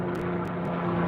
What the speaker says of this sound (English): I always like when the helicopters go over.